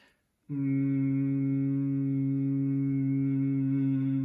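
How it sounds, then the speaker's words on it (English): A single voice hums one steady, sustained low note, loud and close, holding without a break after a brief quiet start. "So we're just going to start again with a little bit of humming."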